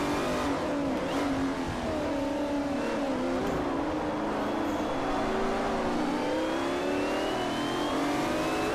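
Race car engines in Forza Motorsport 4 during a championship race, a loud continuous droning roar that rises and falls in pitch as the cars accelerate and brake, heard alone without talk.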